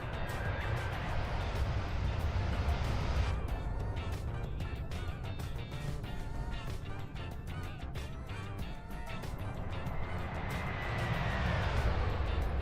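A Fenix A320 airliner flies past in Microsoft Flight Simulator 2024, its steady, loud jet engine roar running throughout, with broad low rumble and a rising whine near the end.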